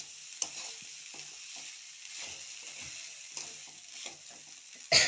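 Food for chire pulao is stirred in a pan, with a soft continuous sizzle and intermittent gentle scrapes of a spoon at an even, unhurried pace, ending in one louder clatter.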